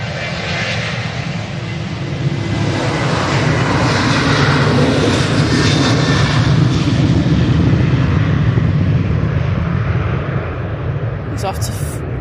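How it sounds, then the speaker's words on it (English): A Ryanair Boeing 737-800 on final approach into a windy Manchester Airport, its broad engine roar loud and steady throughout, with gusting wind noise mixed in. "On finals now, we have the Lingus A380 that's coming in from Dublin, and this Ryanair 737-800."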